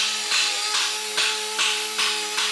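Dual-action sander running on an AE86 body during rust repair, a steady close whine with pulsing surges as it is pressed and moved across the panel.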